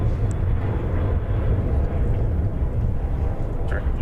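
American Airlines Airbus A321 at DFW airport producing a steady low jet engine rumble that holds throughout, moderately loud and even, with faint voices underneath.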